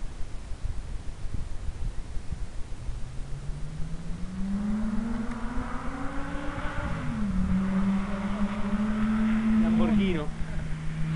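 A Phoenix Evolution 2600mm RC glider sweeps past low with its airbrake deployed, a rising and falling whooshing tone swelling as it nears and fading away, over steady outdoor background noise.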